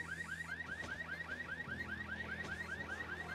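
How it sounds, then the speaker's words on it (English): A Lamborghini's car alarm sounds continuously, a fast repeating rising electronic chirp cycling several times per second, loud and steady with no talk over it. "Apparently, if you touch the Lambo, a fucking alarm goes off."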